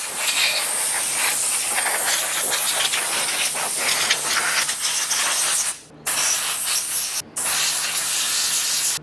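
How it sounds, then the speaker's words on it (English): A compressed-air gun blasts a loud continuous hiss across a KDX 450 motorcycle frame to dry it before painting. The hiss is close and steady, with two brief cutoffs near the end. "I'm just gonna kind of blow everything off to help make sure it's dry and there's no puddles anywhere."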